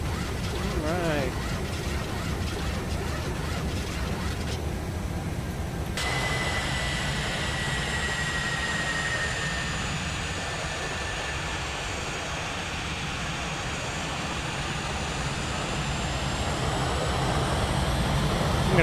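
An IXEG 737 airliner comes in to land in X-Plane 11 with a steady, droning engine roar and a high whine that glides slowly in pitch, while someone talks over it throughout.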